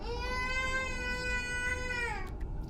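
A baby in the Pathologic 2 video game cries in one long, sustained wail lasting over two seconds, loud and close over a low rumble, then breaks off.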